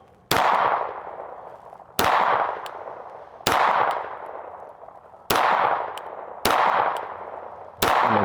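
Six sharp pistol shots from a Kimber 2K11 Eclipse at a shooting range, spaced about one to two seconds apart, each loud and close with a short ringing decay, no talking.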